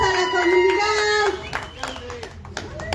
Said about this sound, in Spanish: Por favor, aplausos a la comunidad.